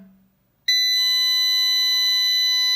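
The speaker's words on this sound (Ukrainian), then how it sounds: "Ай, як противно пищить, аж резонує десь." After a brief quiet moment, a piercing electronic beeper starts squealing with a steady, shrill, unbroken tone that holds loud and close to the end.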